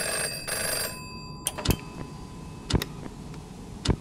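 In the Nightshift at Chuck E Cheese's game, a telephone rings with a bright electronic trill, followed by several sharp, close clicks and ticks spaced across the rest of the moment, with no talking.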